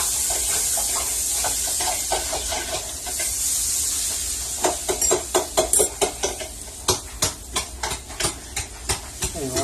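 Butter melting in a hot pan on high heat for Salisbury steak, a constant close sizzle and hiss, with a run of rhythmic scraping stirs in the pan growing louder in the second half.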